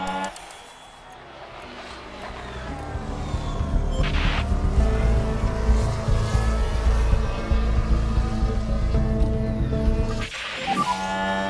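A pack of Formula 1 race cars in the F1 Manager video game launches off the grid, engines rising from a low rumble into a sustained, layered roar, with faint tire noise and a brief voice near the end.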